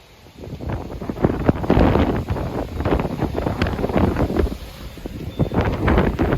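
Strong wind roars inside a tornado among corn stalks, a loud, continuous buffeting rush with gusting surges and heavy microphone wind noise throughout.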